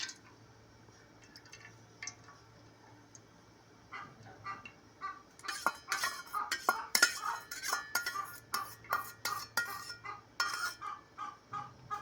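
Cooking oil poured from a bowl into a pot on a stove: quiet at first, then a busy run of close metallic clinks, taps and liquid splashes, with a faint steady hum underneath.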